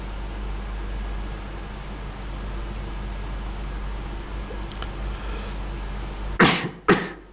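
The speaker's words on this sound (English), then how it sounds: "Little bit of a cough" A pair of sharp coughs near the end, following a long stretch of steady low hiss and room hum in a quiet meditation setting.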